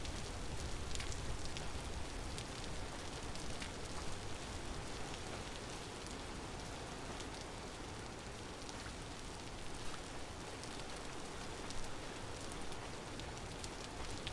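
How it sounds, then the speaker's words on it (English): Rain falling in a desert survival video game, a dense, even hiss of steady rainfall that holds at a constant low level for the whole stretch, with no voices. "It's 50 Celsius and raining."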